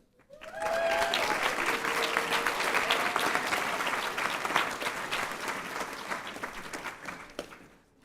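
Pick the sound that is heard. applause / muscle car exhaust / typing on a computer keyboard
applause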